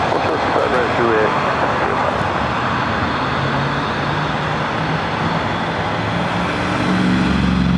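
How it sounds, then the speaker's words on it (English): A wide-body Airbus A380 rolls down runway 24 left at Los Angeles airport, its jet engines giving a loud, continuous roar that swells near the end, with someone talking over it. "the A380 now rolling down at 24 left"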